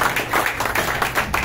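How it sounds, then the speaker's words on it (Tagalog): Crowd applause at a political rally, a continuous dense patter of many hands clapping at moderate loudness. "Palakpak ulit!"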